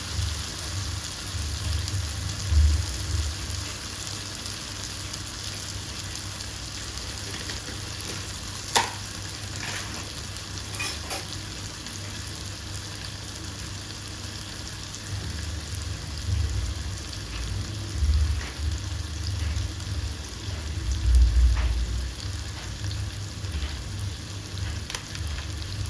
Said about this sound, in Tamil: இந்த மாதிரி தான் நல்லா எண்ணெயிலே வதக்கிடணும்.